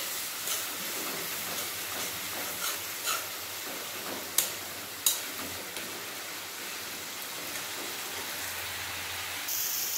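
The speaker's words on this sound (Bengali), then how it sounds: "মশলার মধ্যে দিয়ে দেবো জল। মশলা ভালোভাবে কষিয়ে নেব।" Water poured into a spice paste frying in a pan for a Bengali katla fish curry, producing a steady, close hiss and sizzle with a few sharp spoon clicks against the pan; no voices.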